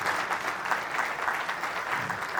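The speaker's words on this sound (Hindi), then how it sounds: "जोरदार तालियां" Audience applause at a safety seminar of a pointsman association in Ajmer, a steady dense wash of many hands clapping from near to mid distance, continuous and even throughout.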